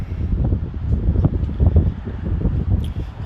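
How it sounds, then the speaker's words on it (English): Wind gusts buffeting a microphone outdoors, a steady low rumbling roar with fluctuating bursts throughout, loud and close, with no talk over it. "The wind is picking up a little bit, so that's a bit annoying too."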